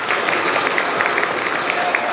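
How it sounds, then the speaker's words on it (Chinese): Clapping from guests at the Taipei Fuxing Rotary Club's 20th-anniversary celebration for a club's award. It is a brief, even wash of many hands at moderate volume from the room. "大家掌声再鼓励一下"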